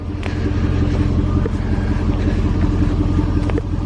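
A 4x4 tow car's engine idles close by with a loud, steady low rumble and a faint rhythmic throb, running evenly throughout.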